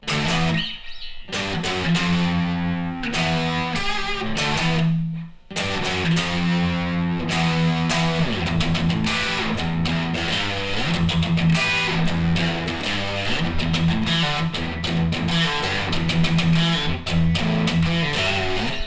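Heavily distorted electric guitar chords and riffs through a distortion pedal, thick and saturated, playing continuously and loud with a brief pause near the start.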